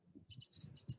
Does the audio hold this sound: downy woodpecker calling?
yes